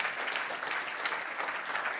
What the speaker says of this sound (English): Big round of applause for Dan for taking time out of his day